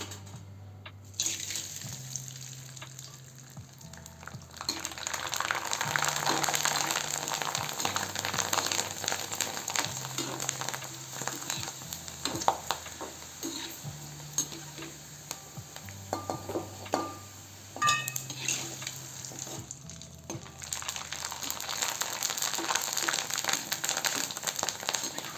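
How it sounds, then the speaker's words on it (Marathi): Small sago and potato chakli frying in hot oil, a soft, continuous sizzle and bubbling that rises and falls in waves, with faint scraping from stirring. It is quiet and close, and no voices are heard. "तेल गरम झालेलं आहे, आता चकल्या तळून घेऊ आपण"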